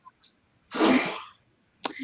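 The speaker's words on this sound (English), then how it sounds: "I don't know if you can hear my dad sneezing in the background" A single loud sneeze in the background, preceded by faint small sounds and followed by a brief sharp noise.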